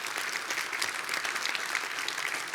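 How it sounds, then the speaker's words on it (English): Sustained applause from an audience at an energy conference, dense clapping at an even level throughout with no voices over it. "I think we should all give them all a round of applause."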